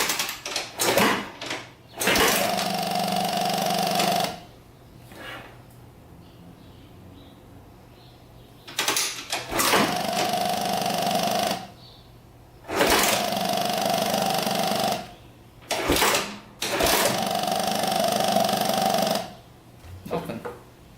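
A 4x4 ATV engine with a freshly reconnected carburetor fuel line cranks in repeated bursts of about two seconds each, broken by short pauses, the starter whirring loudly and close without catching.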